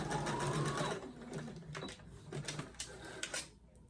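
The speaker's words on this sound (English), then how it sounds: "I just sew forwards and backwards a few times to make sure it's secure." A sewing machine stitches forwards and backwards while securing a seam on a bodysuit or unitard, running steadily at first and then in shorter bursts that stop and start.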